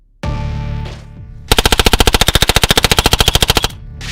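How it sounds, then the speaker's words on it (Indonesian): An MP5 submachine gun with roller-delayed blowback fires a long, rapid automatic burst of sharp, evenly spaced cracks, loud and close, after a brief ringing metallic tone. "MP5 menggunakan sistem roller delayed blowback dengan bolt tertutup, sehingga mampu menembakkan peluru hingga 900 butir peluru per menit"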